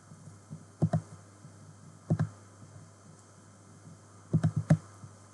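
Mouse clicks and keyboard key presses while working in a spreadsheet: a few short, sharp clicks in small clusters, close up and fairly quiet over a steady low hum, with no talking.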